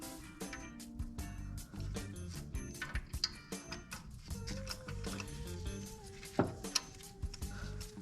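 A socket wrench ratchets a spark plug on a Porsche Cayman, with quick, faint mechanical clicks in irregular bursts under a steady background.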